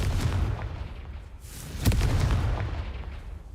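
Confringo blasting spell in Hogwarts Legacy, a loud booming explosion bursting near the middle of a dense, rumbling noise bed, heard alone with no talk.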